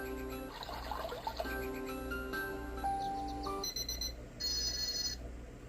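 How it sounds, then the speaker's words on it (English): Small alarm clock radio sounding its various alarm tones, a sequence of electronic beeps and chimes changing pattern every second or so, close and fairly clear. "Here's the alarms."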